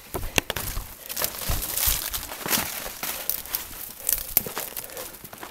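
Footsteps crunching and crackling through dry brush in woods along the Silver River bike loop, an irregular, close run of rustling steps with no talking.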